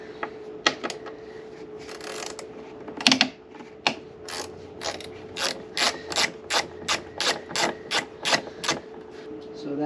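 A hand ratchet loosening Torx bolts on a BMW S54 VANOS unit, giving bursts of crisp clicking that settle into a steady run of evenly spaced ratchet strokes, close up, with a faint steady hum underneath.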